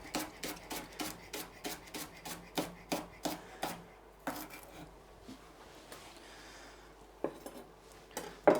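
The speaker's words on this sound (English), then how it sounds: "Right now, I'm cutting up some leek to go in my soup and or stock, and also to go in the stir fry." Knife chopping leek on a board for soup and stir fry, a quick run of about a dozen sharp, evenly spaced cuts, then a pause and a few scattered slower strikes, close and clear.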